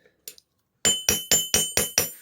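Close, loud hammer blows flatten a piece of wire into a crochet hook: a couple of faint taps first, then six steady, ringing metallic strikes in quick, even rhythm with bright clinking tails.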